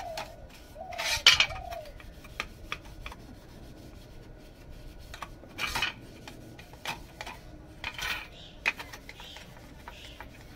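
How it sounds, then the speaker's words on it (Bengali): Gas stove grates being scrubbed and washed by hand, giving sporadic metallic clinks and rubbing scrapes at close range, with quiet gaps between bursts and birds faintly in the background. "আর এই ঝিকগুলো ভালো করে পরিষ্কার করে মেজে নিচ্ছি"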